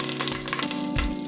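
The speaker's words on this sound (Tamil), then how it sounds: "அந்த எண்ணெய் காஞ்சி நல்லா பட்டை கிராம்பெலாம் வெடிச்சிருச்சு" Whole spices, cinnamon and cloves, splutter and crackle in hot oil in a pan while a Chettinad rice dish is cooked, a close, continuous sizzle with dense popping and no talk.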